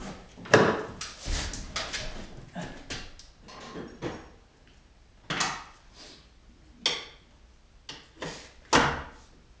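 Several separate thumps and clunks of metal and wood, spaced irregularly, close by, as a Ford Ranger's lambo-style door swings upward on a strut and is knocked into place.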